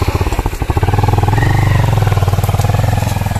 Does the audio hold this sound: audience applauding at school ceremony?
no